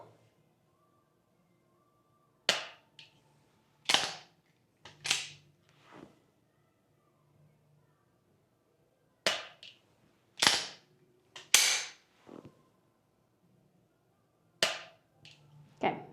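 Sharp gunshots from an AWA Mantis X10-equipped firearm during shooting practice, fired in spaced pairs and singles with short ringing tails, loud and close with no talk.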